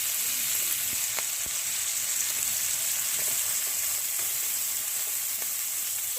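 Prawns frying in a pan, sizzling steadily as chopped onion goes in, with a continuous close hiss and a few faint stirring clicks, no talk.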